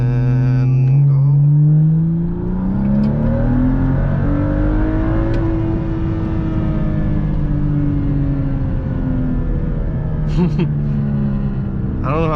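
A BMW 435i car engine revs hard and climbs in pitch as it accelerates, then holds a loud, steady roar close by, with the engine running hot.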